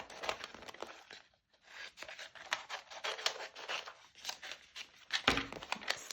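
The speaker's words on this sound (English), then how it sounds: "trim around the edge with some scissors" Scissors roughly trim around the edge of a covered card for a wedding heart die-cut project, giving a close run of crisp snipping and paper rustling with a brief pause partway through.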